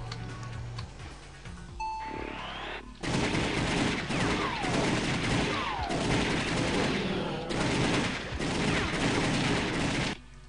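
Rapid video-game gunfire from The Typing of the Dead, dense overlapping bursts of shots that run almost continuously from about three seconds onward, loud and close, with a brief quieter stretch before.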